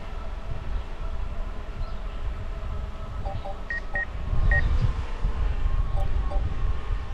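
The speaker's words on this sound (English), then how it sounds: "That little beep sounds from the drone." Short electronic warning beeps from a drone's obstacle-avoidance system, chirping in small clusters over steady wind and road rumble during a bicycle ride up a steep grade on Decker Road.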